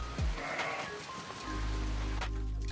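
A sheep in Iceland bleats a few times over a steady rush of wind or rain, the animal fairly close and the background noise loud throughout.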